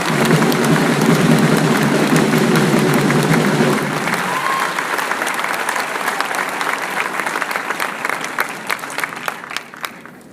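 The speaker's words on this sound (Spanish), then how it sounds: "Un aplauso pues para Enrique Peña Nieto y para Egidio Torre Cantú." Audience applause fills the hall at a senator's report event in Ciudad Victoria, Tamaulipas: loud, steady clapping from a large crowd for about four seconds, then thinning into scattered claps that fade out.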